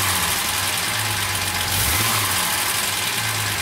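A car engine fitted with SU carburettors running close by, a steady mid-pitched drone with a slight swell as it is revved, no voices.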